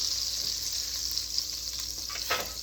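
Meat for solyanka soup sears in hot oil in a pan, giving a brief, even sizzle at moderate volume, with a couple of soft scraping touches near the end.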